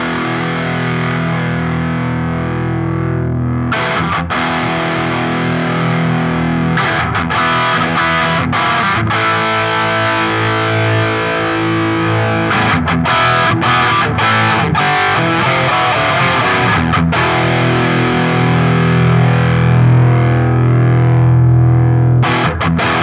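A distorted electric guitar plays loud and continuously, with sustained chords and a few choppy rhythmic breaks. Its fullness grows slightly as the microphone level is raised.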